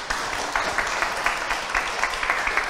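A church congregation at a Sunday morning service applauds the preacher, the claps merging into a steady, rhythmic patter close by, with no talking over it.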